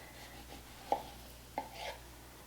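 A knife slices through a banana on a cutting board, two crisp cuts close by in a quiet kitchen.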